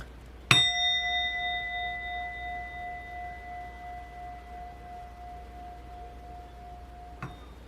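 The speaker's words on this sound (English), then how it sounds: "I wanted to gong my gong." A single struck gong rings out with a clear, sustained metallic tone that slowly fades over several seconds, followed by a light knock near the end.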